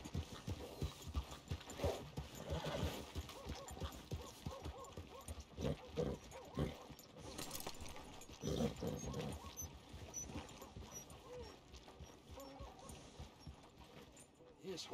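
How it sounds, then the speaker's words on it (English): A thin, skinny horse in the Red Dead Redemption 2 video game walks with steady hoof clip-clops, faint and mixed with game ambience, snorts and other animal sounds. "This horse got worms or something."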